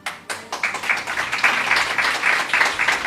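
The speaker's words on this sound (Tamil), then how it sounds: "இதோ கைத்தட்டி சிரிக்கிறாங்க" An audience claps steadily and densely throughout, a broad continuous patter of many hands at a talk, with a brief pause near the start before it swells and holds.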